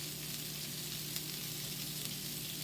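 A capful of vinegar sizzles in a hot pan of Brussels sprouts, a steady soft hiss with faint crackles, close but fairly quiet, with no voices.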